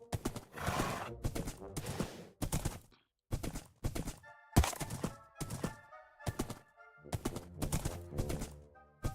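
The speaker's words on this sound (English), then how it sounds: "That's a nice looking white horse." A white horse in a Minecraft-style village game gives a string of choppy clip-clop hooves and snorting neighs in short bursts separated by brief silences.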